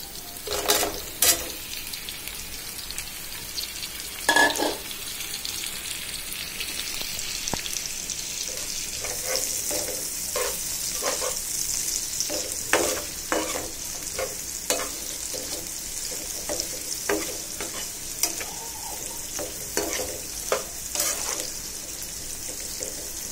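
Pointed gourd (potol) fries in a pan, giving a steady sizzle throughout, with a spatula clattering and scraping against the pan in irregular close strokes and no talk.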